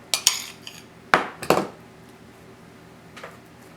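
Metal utensil clinking and scraping against a bowl while butter, parsley and garlic are mixed together, a few sharp close knocks followed by quieter scrapes.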